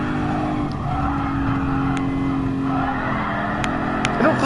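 A race car in Gran Turismo Sport breaks into a sustained drift, its engine droning loudly under long tire squeal that rises and falls over several seconds, with no talk.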